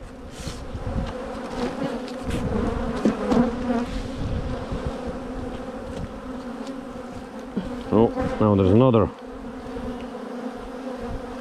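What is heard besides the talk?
honey bees buzzing around hive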